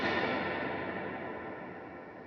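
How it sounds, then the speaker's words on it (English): An electric guitar played through a hall reverb with a medium mix and medium decay rings as a single strummed chord, fading gradually and smoothly over a couple of seconds. "One is kind of a medium mix,"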